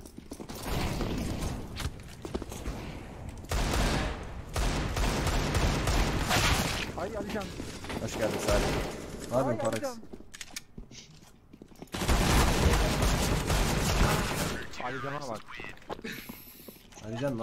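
Video game gunfire crackles in long sustained bursts, broken by a brief pause, while players talk excitedly over the shots throughout.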